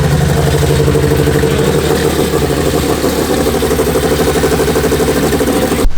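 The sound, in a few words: VW MK6 GTI engine started up, idling and misfiring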